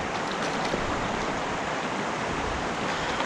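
A creek stocked with brown trout in southeast Kentucky in winter flows with a steady, dense rush of water. It is moderately loud and close, with no talk.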